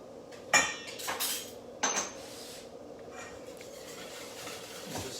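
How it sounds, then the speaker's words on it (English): Sugar is stirred into buttermilk pancake batter in a bowl: two sharp utensil clinks against the bowl, then soft, quiet stirring. "And just stir that around a little bit more."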